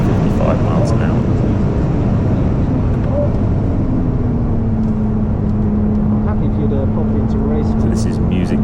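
A Ferrari engine at about 150 mph on Goodwood's Lavant straight roars loud and close inside the car, a constant dense drone with a rising tonal whine running steadily throughout.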